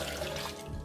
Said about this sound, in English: So I'm going to be adding 2 cups of water